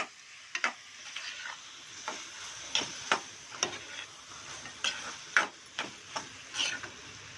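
Prawns coated in masala are stirred in a pan, with a spoon tapping and scraping in a quick irregular series of clicks over a faint sizzle, fairly close and quiet.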